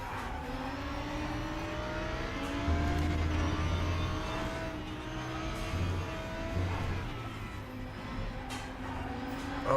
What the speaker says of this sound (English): but sound and engine note, pretty much as we know it from RaceRoom